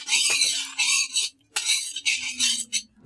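Sesame seeds roasting in a dry pan, heard as bursts of dry rattling, scratchy stirring separated by short pauses, loud and close with no talk.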